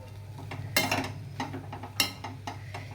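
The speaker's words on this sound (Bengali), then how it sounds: "আবার আমি নেড়ে চেড়ে নেব" A utensil stirs tomato sauce into egg chow mein in a pan, giving a few sharp scraping clinks and softer rhythmic scrapes over a low steady hum.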